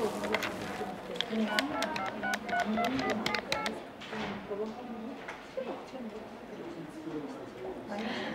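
A string of short beeping telephone dialing tones rings out in rapid sequence over a steady background of voices, then fades to murmuring talk.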